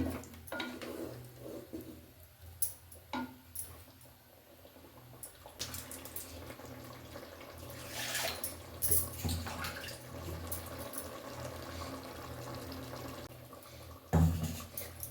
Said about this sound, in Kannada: ಮಿಕ್ಸಿ ಜಾರ್ನ ತೊಳೆದಿರೋಂಥ ನೀರನ್ನು ಕೂಡ ಸೇರಿಸ್ಕೊಳ್ತೀನಿ